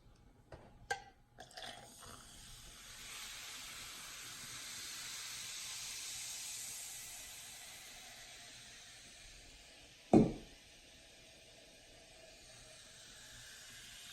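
Baking soda and vinegar volcano fizzing, a soft broad hiss that swells for several seconds and fades, framed by a few sharp clinks and knocks.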